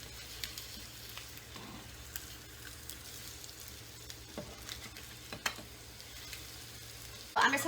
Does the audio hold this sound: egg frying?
yes